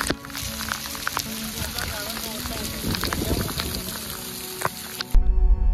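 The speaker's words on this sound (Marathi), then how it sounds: "पावसाची एक्सपेक्टेशन्स होती पण गारांचा पाऊस झाला" Steady rain patters and crackles on surfaces just after a hailstorm on a mountain trek at Kokankada, Harishchandragad, a continuous close wash of drops that cuts off abruptly near the end.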